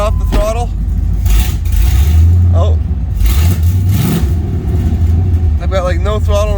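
LS-swapped OBS Ford truck engine idling and revving close by in a few rising and falling throttle blips, with talk over the engine noise.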